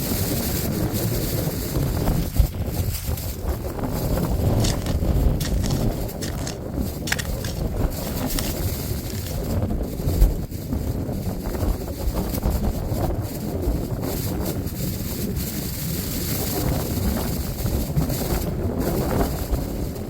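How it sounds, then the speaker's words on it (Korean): Cold late-afternoon wind blowing outdoors at a farm where trees are being planted, a steady, loud rumbling gust buffeting the microphone throughout with no letup. "4시 넘어서 바람이 굉장히 차가워요"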